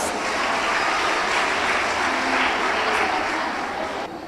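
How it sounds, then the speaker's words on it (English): A round of applause for a young contestant at a children's podium speaking competition, dense steady clapping from a large audience filling the whole stretch, loud and continuous, tapering slightly at the very end. "Please give her a round of applause."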